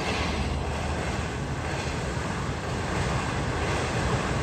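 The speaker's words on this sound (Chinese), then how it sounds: "跑得飞快，那列火车的" A fast train rushes past an old small town, a loud, steady broadband rumble and rattle that holds evenly through the whole stretch with no voices.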